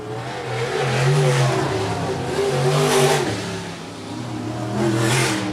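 Race cars on an oval circuit rev and accelerate past in loud waves, engine pitch rising and falling as cars surge by, with a second pass swelling near the end.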